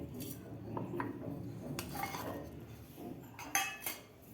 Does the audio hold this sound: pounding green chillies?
yes